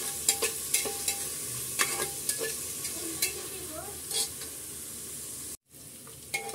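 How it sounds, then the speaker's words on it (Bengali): Onion, garlic and ginger paste frying in oil while being stirred, soft sizzle with clattering utensil taps and scrapes near the pan, briefly cutting out near the end. "মশলাটা একটু তেলের উপর নেড়ে চেড়ে নিয়ে"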